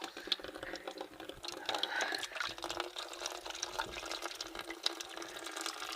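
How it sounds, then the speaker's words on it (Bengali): Water flows from a pipe into a drum, fed without any electric pump or motor, as a steady, faint rushing splash that continues the whole time. "পানি চলে আসছে, দেখো"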